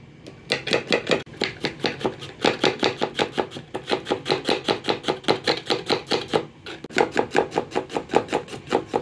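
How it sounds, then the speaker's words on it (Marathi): A knife chopping ginger on a board in a fast, steady run of sharp, loud taps close to the microphone, with two brief pauses and no talk over it. "आता हे अद्रक कापून घेतलेलं आहे"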